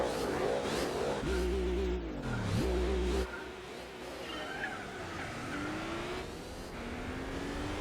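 Volkswagen W12 Nardo engine in the Gran Turismo 4 video game, a game engine drone with rising revs and shifts, tire squeal mixed in, steady and fairly loud throughout.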